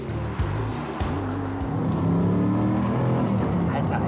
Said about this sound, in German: Ich habe im zweiten Gang bei 450 PS durchdrehende Hinterreifen, im dritten Gang ebenfalls durchdrehende Hinterreifen.